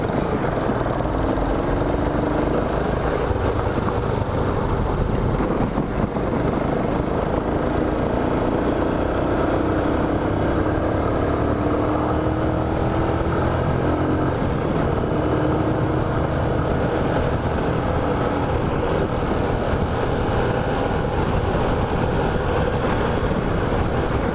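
Dafra Speed 150cc motorcycle engine droning steadily throughout a Sunday ride, a continuous loud hum mixed with wind noise and no pauses.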